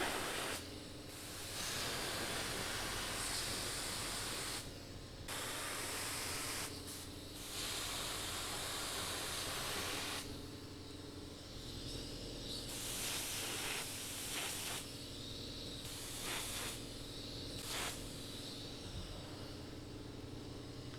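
A spray gun lays a thin coat onto a fiberglass part in repeated hissing passes, each lasting a few seconds with short breaks between, steady and fairly close.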